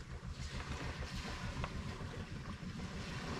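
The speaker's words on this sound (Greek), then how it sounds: "η θάλασσα ακούτε τον ήχο της, χαϊδεύει την παραλία που βρίσκεται ακριβώς από κάτω" Sea waves lapping gently on a beach just below a parked motorhome, a steady soft wash and hiss continuing throughout with no voices.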